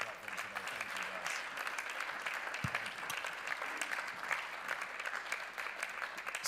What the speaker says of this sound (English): Can you give them a clap as they leave the platform today?